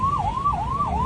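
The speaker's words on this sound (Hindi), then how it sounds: "ये एम्बुलेंस मैं 20 मिनट से देख रहा हूँ यही खड़ी हुई है" An ambulance siren stuck in a traffic jam on a road in Greater Noida wails in a smooth rising and falling cycle, loud and close over low traffic rumble.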